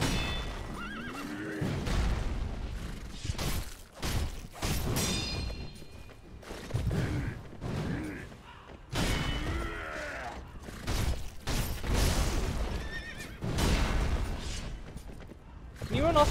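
A horse whinnies and neighs repeatedly with clip-clop hoofbeats during the Gyoubu Oniwa mounted boss fight in the Sekiro video game, loud and close, amid clashing combat effects.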